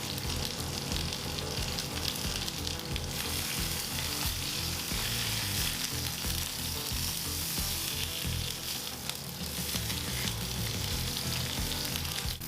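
Pork secreto pan-frying over high heat gives a loud, steady sizzle and crackle that runs unbroken through the whole stretch, close up with no voices.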